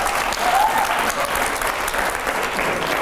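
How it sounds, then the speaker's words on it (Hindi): Studio audience at a TV9 Hindi talk show bursts into loud, sustained clapping that holds steady for the full few seconds, dense and close, with no talk over it. "जोरदार तालियां हर सवाल पे"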